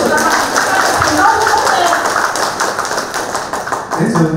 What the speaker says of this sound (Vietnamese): hãy nổ một tràng pháo tay thật lớn để chúc mừng các bạn